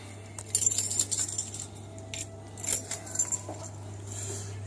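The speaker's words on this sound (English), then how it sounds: "I got the key to the kitchen. I got the keys." A bunch of keys jangles in someone's hand in a dark kitchen around dawn. Several bright, metallic clinking bursts come close up over a low, steady background hum.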